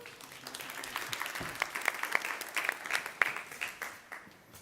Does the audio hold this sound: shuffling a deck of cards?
no